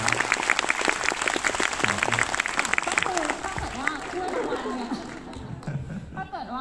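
A fan event crowd claps and cheers for a series director, lively applause with chatter that thins out toward the end as a voice speaks over it.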